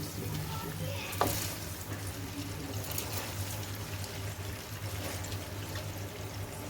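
Rice is tipped into boiling yakhni stock for Kabuli pulao and stirred, giving a soft splash followed by steady bubbling and gentle scraping, quiet and close with no talk.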